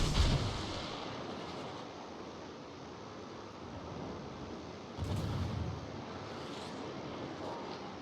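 Warship guns fire in a naval battle video game, with deep distant booms at the start and again midway over a steady rumble of sea and wind.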